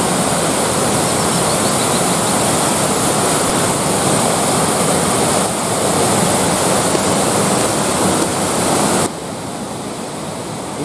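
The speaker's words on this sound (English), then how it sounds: "You can see why this waterfall is named after the devil." A waterfall known as the Devil's Chimney roars steadily and loudly, a dense continuous rush of falling water that eases slightly near the end.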